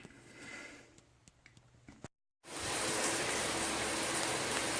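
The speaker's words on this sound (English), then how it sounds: "I have to talk a little bit louder because the water is running." Bathtub spout running water in a master bath with a tub/shower combo, a steady broadband rush that starts after a brief gap of silence, following quieter room sound with faint taps.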